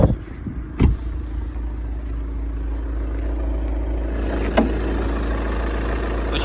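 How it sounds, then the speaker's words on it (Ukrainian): A 2014 VW Passat B7 Alltrack engine idles steadily close by, a smooth, even low rumble with a couple of brief knocks early on and a small bump near the end. "Зараз відзніму ще роботу двигуна"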